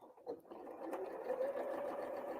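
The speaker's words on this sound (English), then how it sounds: "You just start sewing them together." Sewing machine stitching quilt fabric scraps together, a quiet close steady whirring run that starts with a brief stutter and then holds, no talking.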